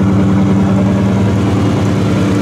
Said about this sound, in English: The engine runs beautifully. It's got nice dual exhaust too